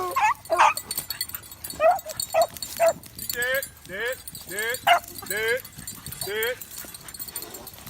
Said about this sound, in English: That's an old dog barking